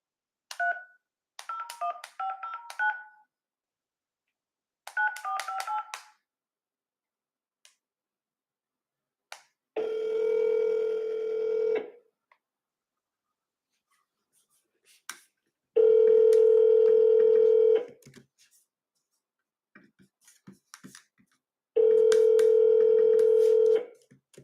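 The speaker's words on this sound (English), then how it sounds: "I'm about to call her right now" A telephone being dialed for a call: short bursts of keypad tones first, then repeated long steady ringback tones separated by silence, clear and isolated with no talking.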